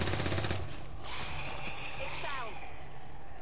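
Gunfire in XCOM Long War of the Chosen, a dense crackle of shots with game effects and busy sound over a steady game bed, under talk.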